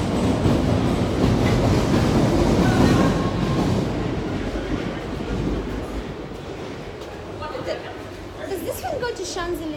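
Paris metro train running, a loud steady rumble with rattling wheels filling the station and fading slightly toward the end as a voice speaks briefly nearby.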